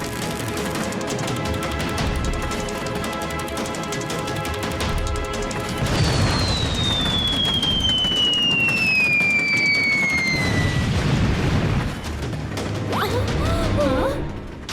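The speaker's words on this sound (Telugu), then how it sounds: "అరే వాళ్ళు ఫిరంగి దాడి చేస్తున్నారు." Cannon fire rings out during a cartoon train chase, a dense run of bangs and crashes with whistling projectiles streaking overhead midway, continuous and loud over busy action noise.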